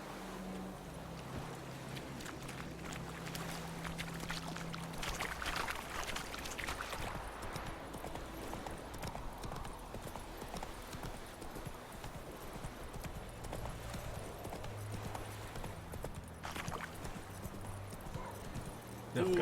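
Roach the horse trots in The Witcher 3, steady clip-clop hoofbeats running throughout at moderate loudness, with faint game ambience and occasional background voices.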